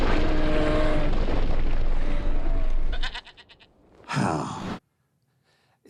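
A little goat in a film bleats, a short wavering cry near the end after loud mixed film sound, then silence.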